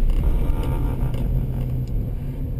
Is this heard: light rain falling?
no